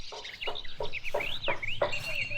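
Chickens at a traditional house garden cluck in a quick run of about six repeated calls, close and fairly loud, with higher chirps weaving between them.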